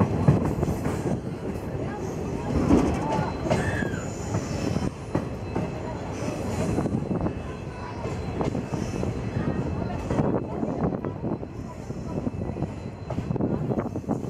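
Passenger train on the Jodhpur–Pokhran–Jaisalmer line in Rajasthan, heard from onboard as a steady broadband rumble of wheels on rails, with rattles and occasional squeals, continuous and fairly loud throughout.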